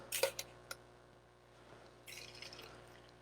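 A Sazerac-style cocktail is poured through a bar strainer, beginning with a few sharp clinks and splashes, followed by a quieter trickle of liquid and then a soft stream that stays faint and close.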